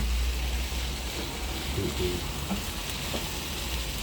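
Garlic and onion sautéing in a pan for a Filipino bitter gourd with egg dish, a steady close sizzle running throughout with a few soft stirring scrapes and no talk.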